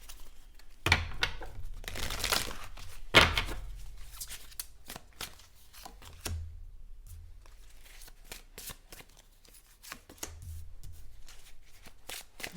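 Tarot cards are shuffled and drawn at close range, with quick riffling bursts and crisp flicks, then lighter sliding and tapping of single cards, no talk.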